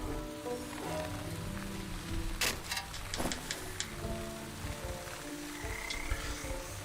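Frogs croaking in the video game Wytchwood, a few scattered croaks and clicks over a rainy, rumbling ambient backdrop with low music, at moderate level.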